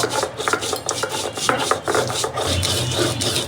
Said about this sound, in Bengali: এইভাবে করে শুকনো মরিচটা আমি বেটে নিই